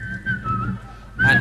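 A person whistles a sustained tone that wavers slightly, then a brief louder rising whistle near the end, with a little background murmur.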